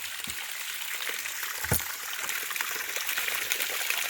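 Water draining out of a small farm tank in a hill village, a continuous rushing trickle and gush, fairly close and steady throughout with no voices over it.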